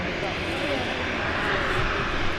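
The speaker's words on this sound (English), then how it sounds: "Something else, I think it's the Austrian taxiing out." An Austrian Airlines airliner taxiing out at Manchester Airport, a steady, broad engine roar at moderate distance, with people talking over it.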